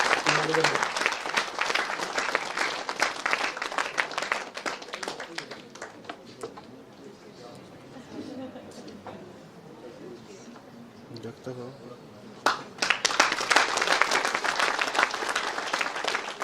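A hall audience at NIT Meghalaya's Institute Day 2025 applauds in steady, dense clapping that thins to a low murmur mid-way, then breaks out again loud and sustained near the end.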